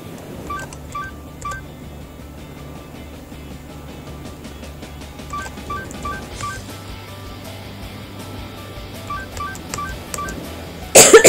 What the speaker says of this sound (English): I swear I'm only coughing because I'm recording